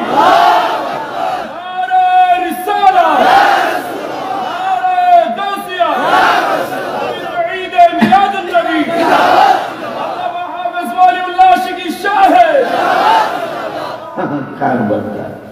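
A large crowd at a religious sermon gathering chants Allahu Akbar in unison in reply to a takbir call, with loud, repeated group shouts rising and falling in a steady rhythm across the whole stretch.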